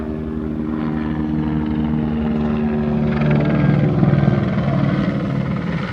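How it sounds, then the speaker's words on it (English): A helicopter drones steadily overhead at California Citrus State Historical Park, its low rotor thrum swelling louder toward the middle and staying close throughout, with no talking. "That helicopter doesn't help."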